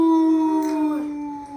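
Dogs howling together indoors at night, a loud sustained tonal howl that wavers and then drops into a lower trailing note near the mic.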